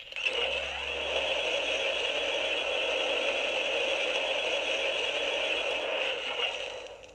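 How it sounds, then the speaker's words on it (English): A Hasbro Ghostbusters: Afterlife Plasma Series Neutrona Wand prop replica in stasis mode plays a steady electronic hum with a high whining tone, sustained and close for several seconds before trailing off at the end. "So then we switch back to the stasis mode. This is what it sounds like."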